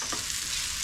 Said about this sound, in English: frying my apples.